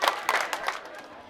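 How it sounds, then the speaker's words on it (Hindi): A crowd at a Urdu-Hindi poetry gathering claps to welcome a poet, with a few bursts of applause rising and fading over a murmuring audience, fairly distant and moderate in volume. "जबरदस्त तालियों से इस्तेकबाल कीजिए।"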